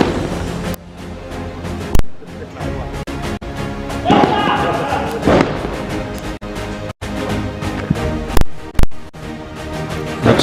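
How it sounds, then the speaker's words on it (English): A sniper rifle shot rings out during a SWAT team competition, one of several sharp reports and thumps in a busy outdoor range scene, heard amid crowd noise and background voices. "There goes the first sniper round."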